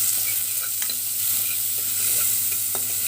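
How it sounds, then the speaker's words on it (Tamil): Onions sautéing in a pan with a little salt, a constant close sizzle with a few faint scraping stirs, no voices. "வெங்காயத்தை போட்டு வதக்கிக்கலாம்."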